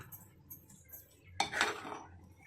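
Jawla being stirred and sautéed in a pan, Kokani style, with quiet scrapes and clinks of a utensil against metal, then a sharper, louder scrape and rustle toward the end.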